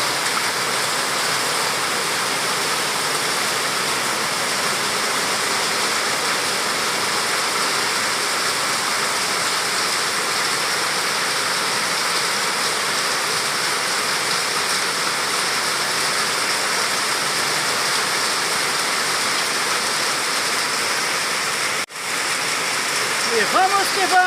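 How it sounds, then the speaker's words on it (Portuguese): Heavy rain pours down steadily on the BR 319 highway at km 298 in Brazil, a dense constant hiss of falling water that is loud and unbroken throughout. "Caiu a chuva, pessoal!"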